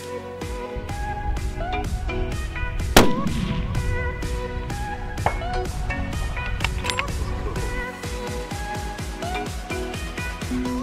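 A single rifle shot fired at a 600-yard target with a SIG BDX rangefinding optics system cracks out sharply with a brief decaying tail, partly buried under continuous music.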